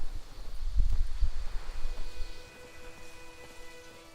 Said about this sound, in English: Well, the weather looks like it's changing. It's actually getting darker. Are we going to get some rain? It's howling.